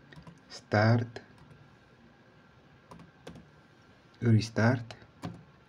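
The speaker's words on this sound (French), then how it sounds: "Je vais taper" Computer keyboard typing a command, two short bursts of clicking keystrokes separated by quieter pauses, close and clear over faint background hum, with a voice speaking.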